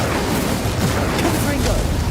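The Incendio fire spell from the Hogwarts Legacy video game bursts out as a dense, roaring rush lasting about two seconds, loud and continuous without distinct pauses.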